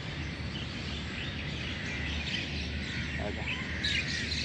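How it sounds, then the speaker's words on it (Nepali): Birds chirp at dusk as evening falls, many small calls blending into a faint, distant twittering chorus over steady background noise. "यो साँझ गोधुली साँझ रमाइलो भनेको चाहिँ यही चराचुरुङ्गीको चिरबिर है।"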